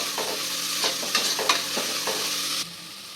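Grated carrots sauté in hot oil with curry leaves, a loud close sizzle broken by repeated clacks and scrapes of stirring, then the frying drops to a quieter hiss near the end.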